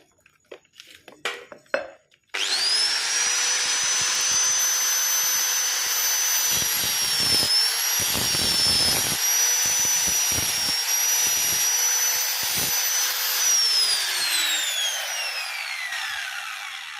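A power grinder works on a motorcycle clutch part while a clutch rubber is being fitted. After a couple of seconds of clatter it spins up into a loud, steady high whine that holds for about twelve seconds, then winds down.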